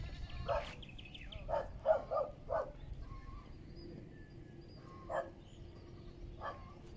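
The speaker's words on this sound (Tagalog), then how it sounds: "These are all Joselito's goat. There are many of them." A herd of goats bleating, several short bleats in a cluster then a few more spaced out, moderately distant over quiet outdoor background.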